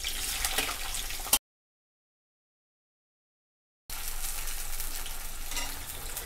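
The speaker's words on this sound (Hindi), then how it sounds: "हमारा ऑयल गर्म हो चुका है, सबसे पहले हम हरी मिर्च डाल देंगे" Green chillies frying in hot oil for a snack made from leftover roti, a close steady sizzle and crackle that cuts out for a couple of seconds, then resumes at the same level with no talk.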